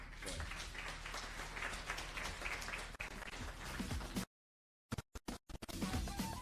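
An energetic crowd applauding the Premier at a Gauteng youth event, sustained dense clapping that breaks off abruptly and then returns in short bursts.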